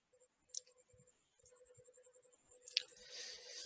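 A single sharp mouse click saving a program file on a computer, brief and close, with faint ticks and a low background hum around it.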